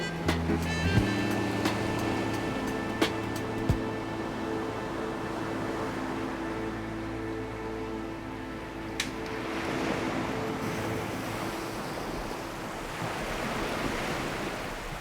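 Indian Ocean waves roll onto a beach at Nosy Iranja, Madagascar: a steady, fairly soft surf wash that swells gradually over the span.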